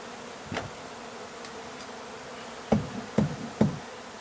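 Bees buzz faintly and steadily around a large hive inside an abandoned chicken barn, with a few sharp knocks and taps on wood standing out close by.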